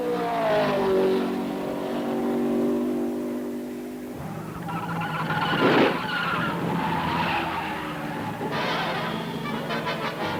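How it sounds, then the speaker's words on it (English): A race car driven by A.J. Foyt brushes the wall and crashes: a long, loud tire squeal and skid with engine roar, then a harsh jolting impact and more screeching, with no talk. "A light touch on the wall in passing snowballs into a jolting crash for A.J. Foyt."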